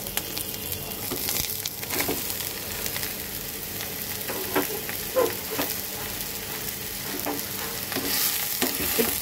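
Ridge gourd hits hot oil already sizzling with ginger, radhuni and whole cumin in a pan, producing a steady close sizzle broken by the scrape and clatter of stirring.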